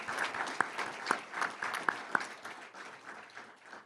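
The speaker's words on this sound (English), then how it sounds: "if we can give her a round of applause" Audience applause at a community recognition awards ceremony, a steady wash of many hands clapping with a few sharper nearby claps standing out, continuing evenly throughout.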